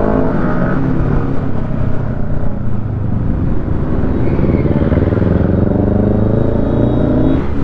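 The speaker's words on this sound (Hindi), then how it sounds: "तो मैं बाइक को कर लेता स्लो" Kawasaki ZX-10R sport bike riding along a road: a continuous close engine roar with wind noise, its pitch dipping and then climbing as the rider eases off and accelerates again near the end.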